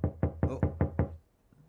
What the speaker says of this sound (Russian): Кто-то стучится в дверь.